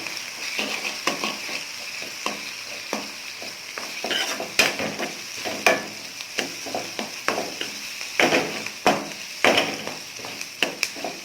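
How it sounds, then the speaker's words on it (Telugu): Onions and turmeric fry in a pan for a ridge gourd and moong dal curry: a steady oil sizzle runs throughout, broken by repeated close scraping and clacking strokes of a spoon stirring, with no talk. "ఇప్పుడు కొంచెం ఫ్రై చేసుకుందాం."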